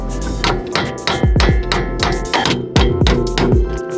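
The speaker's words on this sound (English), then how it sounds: "Okay, so I hammered this bolt through." A hammer drives a bolt through a car's strut fork during a strut replacement on an Acura Integra, with about a dozen sharp metallic blows landing in uneven bursts, loud and close.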